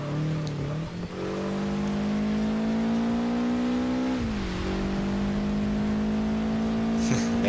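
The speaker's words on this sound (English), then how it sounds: "this car has very great acceleration and handling, but not so good top speed" In Project Gotham Racing 4, a car engine drones loudly and climbs steadily in pitch as it accelerates, dips briefly at a gear change, then rises again under light background whirring.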